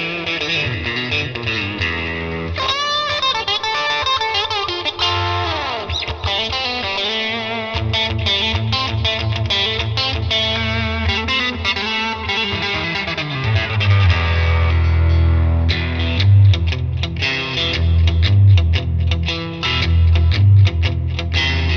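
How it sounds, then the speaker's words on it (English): Electric guitar through the Tone King Imperial MKII plugin on its crunch preset with compressor, a mildly driven, sustained riff with ringing chords and bends, played alone, then heavier low chugging notes toward the end. "This is the crunch preset, and I used, of course, the compressor because it's not a crazy crunch."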